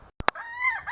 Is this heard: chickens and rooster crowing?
yes